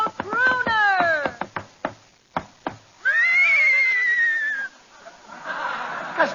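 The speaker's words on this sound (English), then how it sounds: "Hey, Abbott, there's somebody riding into the studio on a horse" A horse ridden into a studio whinnies loudly in a long, wavering call, with rapid clopping or knocking sounds nearby, then a second drawn-out neigh.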